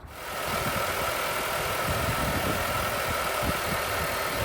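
Mercedes C-Class engine running steadily at idle after starting, a constant close mechanical hum with light ticking, no voices.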